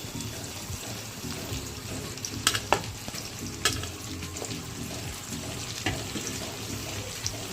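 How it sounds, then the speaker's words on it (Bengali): Chopped onions frying in a pan for prawn biryani, a steady close sizzle and hiss with occasional clacks of stirring against the pan, continuous and even. "এই যে এবার এর মধ্যে আমি পেঁয়াজগুলো দিয়ে দিচ্ছি, কেটে রাখা পেঁয়াজগুলো।"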